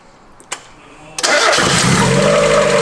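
A Mazda Miata engine cranks with a couple of clicks, then catches and settles into a steady, loud idle close by, with audible lifters.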